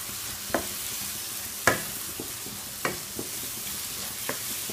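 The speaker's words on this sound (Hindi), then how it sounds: "अब मैं इसमें फ्राई की हुई भिंडियाँ वो शामिल करूँगी और थोड़ा सा अच्छे से मिक्स करते हैं" Fried okra is stirred into ghee in a pan over a soft sizzle, with a handful of distinct spatula knocks spaced about a second apart.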